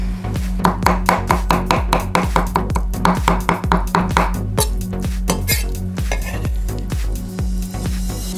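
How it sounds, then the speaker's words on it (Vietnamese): A knife minces pork fat rapidly and steadily on a board, dozens of crisp, close thuds in quick rhythm. "Phần mỡ heo chúng ta cũng bằm sơ luôn nhé các bạn."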